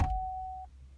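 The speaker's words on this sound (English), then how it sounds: "Let me turn off this beep" A single steady electronic tone from a car's vehicle settings menu, held for just over half a second and then cut off, close and clear over a faint low hum.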